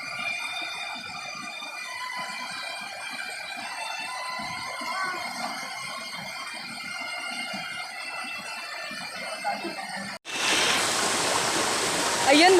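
Steady rushing water from a waterfall and stream at the Apa-apa falls, a dense continuous roar that abruptly grows louder and closer near the end.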